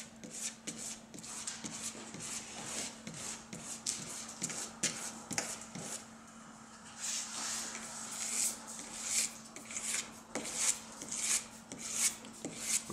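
A single-edge carbon-tip blade pushes polyurethane spray foam overspray off a painted car door, giving faint, steady, rapid scraping strokes with a dry rasping texture and a low constant hum underneath; no talking.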